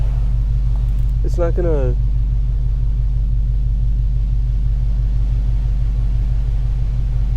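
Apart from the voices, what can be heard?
touchless car wash machine washing a car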